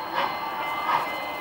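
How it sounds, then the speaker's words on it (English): Union Pacific 844 steam train passing close by, a steady rumbling roar with rolling swells of mechanical noise and no voices. "See the old train?"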